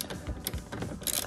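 Ratcheting wrench clicks on the fog light bolt of an S197 Mustang, a few quick metallic ratchet-and-pawl clicks in an awkward spot, close and fairly quiet with no talking.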